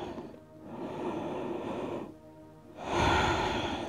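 Slow, deep breaths during a yoga cool-down in crocodile pose: a long audible exhale, a pause, then a louder breath close to the microphone, with no talking.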